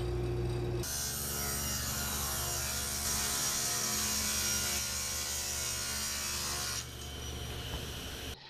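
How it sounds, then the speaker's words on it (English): A table saw rips a miter down the length of a wooden board for a fireplace mantel, a loud steady cutting whine after the blade spins up, running for several seconds before easing off near the end. "I jointed a straight edge to go against the fence of the table saw and then ripped a miter down the length."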